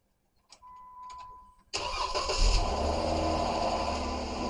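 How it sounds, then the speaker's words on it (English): A car engine cranks with a few soft clicks and a faint tone, then fires up suddenly into a loud, steady running rumble while a tire inflator setup waits. "start the engine so I'm not drawing too much off the battery"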